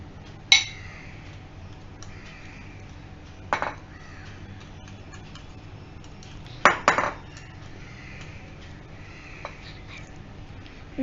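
Apple pancake batter being mixed in a bowl, a few sharp spoon-against-bowl clinks and knocks spaced several seconds apart over a quiet kitchen background.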